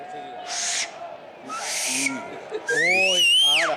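Two breathy, hissing blasts, then a shrill pitched whistle that slides up and drops away, loud and close.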